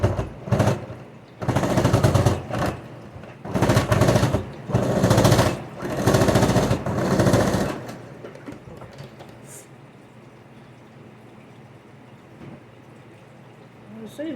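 Sewing machine stitching a San Francisco 49ers apron, running in several loud rapid bursts separated by short pauses, then stopping and leaving quiet handling noise.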